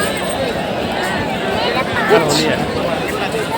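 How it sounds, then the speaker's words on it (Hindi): Dense crowd hubbub at Har Ki Pauri ghat on the Ganges in Haridwar on the eve of Holi: a continuous wash of many overlapping distant voices and bustle, steady throughout. "और अचानक इतनी भीड़ कैसे उमड़ पड़ी?"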